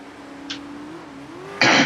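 Sand rail engine in MX vs. ATV Untamed on PS2, racing an opencross course: a steady droning engine tone rising and falling slightly, then a sudden loud burst of gritty noise near the end.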